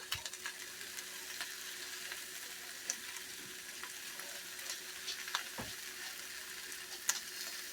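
Polish stir fry sizzles and fries steadily in a wok, a continuous close crackle with scattered pops and an occasional scrape of stirring, fairly quiet and without any talking.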